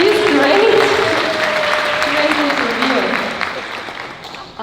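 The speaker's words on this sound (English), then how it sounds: "Let's go give a hand clap for her." Audience applause for an interviewer after a concert performance, a moderate round of clapping that fades toward the end, with talk and some tonal sound mixed underneath.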